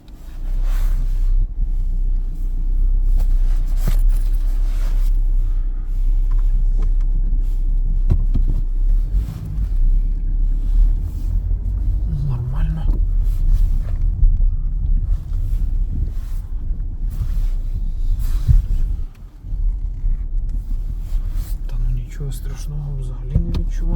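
Used Volkswagen Group car from a batch of ex-leasing Octavia, Passat and Golf models driving during a clutch check, a steady low engine and road rumble throughout, with someone talking over it.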